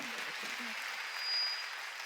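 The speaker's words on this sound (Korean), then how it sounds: "그거 박수치라는 거예요" A church congregation claps during a Sunday worship service, a brief, steady wash of applause that holds at an even level for about two seconds, with faint voices underneath.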